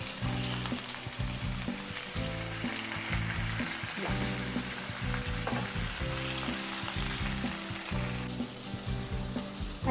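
Fish pieces shallow-frying in a pan, a dense continuous sizzle with crackling pops and occasional knocks of a utensil against the pan, close and loud throughout without talking.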